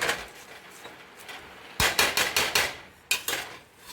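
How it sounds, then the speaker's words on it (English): A spoon clatters against a cooking pot while stirring kale greens, with a quiet opening followed by a run of sharp metallic knocks in two clusters. "So I'm just going to stir them down a little bit."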